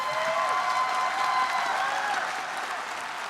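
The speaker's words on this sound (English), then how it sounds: "Please clap." An audience breaks into dense, sustained clapping that fills the space evenly, then eases off slightly toward the end, with no voices rising above it.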